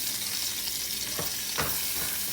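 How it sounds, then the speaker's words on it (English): Crumbled sausage without casings browning in a 12-inch cast iron skillet, a steady close sizzle with a couple of brief stirring scrapes. "in my 12-inch cast iron skillet, I'm going to brown the sausage"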